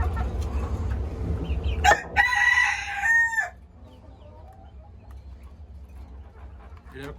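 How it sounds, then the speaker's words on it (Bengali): A breeder rooster crows once on a farm, a loud, near call rising over a low rumbling background, followed by softer fowl sounds. "এটা একটা বিডার মোরগ।"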